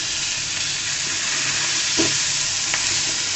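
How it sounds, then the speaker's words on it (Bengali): Tomato frying in hot oil while being stirred, a steady close sizzle with a couple of soft scraping stirs, no voices. "টমেটোটাকে সুন্দর করে ভেজে নেব, যেন কোনো পানি না থাকে সে পর্যন্ত ভেজে নেব।"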